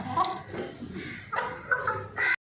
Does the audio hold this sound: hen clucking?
yes